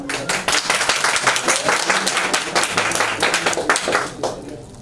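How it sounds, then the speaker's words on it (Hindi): An indoor gathering with cancer-patient children breaks into loud, close applause, many hands clapping vigorously in a sustained burst that thins out at the end. "तालियां वाले जोरदार हो जाओ भैया के लिए।"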